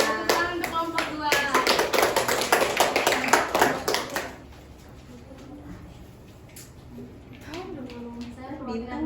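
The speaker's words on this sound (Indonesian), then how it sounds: "Oke, tepuk tangan untuk kelompok 2." Clapping from a classroom group after a student presentation, dense and close for about four seconds, then fading into quieter room noise with brief talk near the end.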